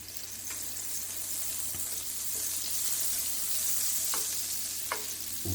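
Butter melting in a hot pan for shrimp risotto, stirred as it goes: a steady close sizzle with a few light scraping knocks of the spoon against the pan.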